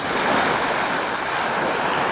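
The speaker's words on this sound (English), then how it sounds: "here, the waves are cushioned by the presence of the Isle of Wight" Waves wash in the Solent off Portsmouth, sheltered by the Isle of Wight, a continuous broad roar of surf mixed with wind noise across the microphone, loud and steady with no voices.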